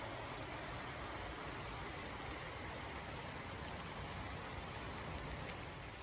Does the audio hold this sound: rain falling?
yes